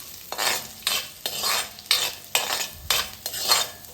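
Carrot, onion and green bell pepper stir-fried on high flame with a little salt, a spatula scraping the pan in steady rhythmic strokes over a constant close sizzle.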